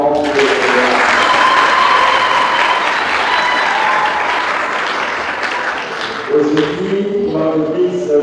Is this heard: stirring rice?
no